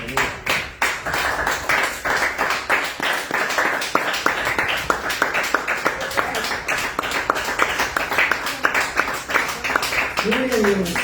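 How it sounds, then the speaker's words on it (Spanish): A church congregation claps in praise, a dense run of hand claps filling the room steadily with voices mixed in underneath. "Denle aplausos al Señor."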